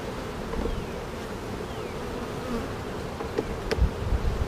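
Honeybees buzz steadily around an open hive during a full early-May inspection, a dense continuous drone with a few individual bees zipping close past the ear, and soft knocks of frames being handled.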